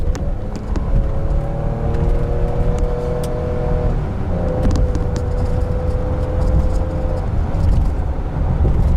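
Ford F150 with the 2.7 engine towing a load pulls up to speed on a freeway, a loud steady engine drone and road roar rising gradually, with a faint tonal whine running through most of it.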